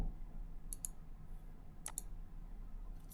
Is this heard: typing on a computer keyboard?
yes